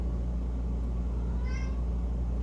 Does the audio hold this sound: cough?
no